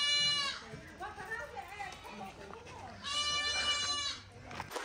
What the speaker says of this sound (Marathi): ही मेंढ्या